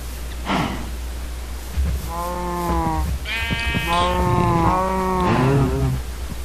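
Cows in a video game low in a run of drawn-out, wavering calls that overlap one another over a steady low hum, fairly loud and close.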